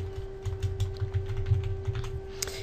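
Quick bursts of keystrokes on a computer keyboard as a widget title is entered, a short close run of light clicks over a faint steady hum, with no voices.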